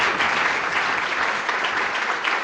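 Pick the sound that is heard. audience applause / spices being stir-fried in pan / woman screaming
audience applause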